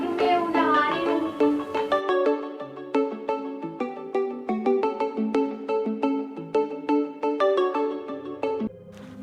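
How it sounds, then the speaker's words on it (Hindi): A phone rings indoors with a melodic, repeating ringtone of bright plucked notes. It plays in quick steady phrases for several seconds, loud and close, with no voices over it. "फोन उठा लो यार, फोन आ रहा है किसी का।"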